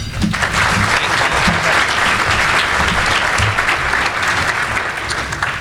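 A conference audience breaks into loud, sustained applause welcoming Admiral Johnson, with dense clapping throughout and no voices over it.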